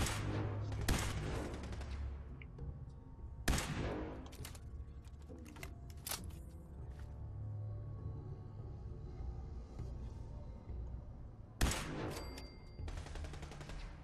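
Gunfire in the video game Fallout 4, loud bursts of shots and rattling volleys separated by quieter stretches of rumbling game ambience.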